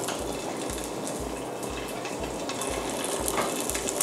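Salmon rice balls frying in a pan, a steady close sizzle that holds evenly throughout with a soft regular pulsing underneath.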